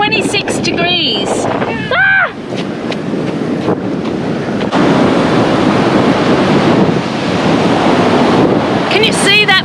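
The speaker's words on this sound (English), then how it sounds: "Can you see how big the waves are behind me?" Big ocean waves breaking near Noosa, a loud continuous roar of surf heavily buffeted by wind against the microphone, with bird-like chirps at the start and end and a person talking over it.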